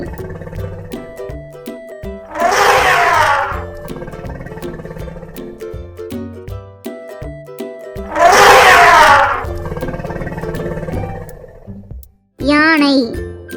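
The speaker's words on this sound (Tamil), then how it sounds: "யானை," An elephant trumpets twice, loud, blaring bursts of about a second each, separated by several seconds of light background music, with a short, bright cry near the end.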